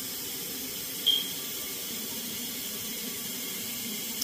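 Bathtub faucet running and filling a tub, checked during a home inspection: a steady, even hiss of flowing water throughout, moderately close, with one brief knock near the start and no talking.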